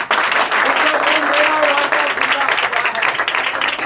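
A church congregation clapping loudly and continuously, a dense close roar of many hands with voices cheering and calling out within it.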